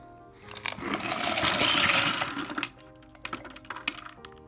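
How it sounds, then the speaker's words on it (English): Tumbled stones, including fire agate, jasper and obsidian, pour out of a rock tumbler into a container in a loud, gritty cascade of clattering and crunching, followed by a few scattered clacks as the last rocks settle. "So we're gonna dump these in here."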